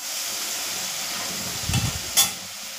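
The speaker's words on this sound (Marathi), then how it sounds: "इथे टमाटर थोडंसं गाळवण्याचं त्याच्यामध्ये मी मीठ ॲड करते. परत व्यवस्थित परतून घेते." Tomato with salt sautéing in a new lidded kadhai, a soft continuous sizzle with a couple of brief stirring scrapes and a short clink near the end, close and steady.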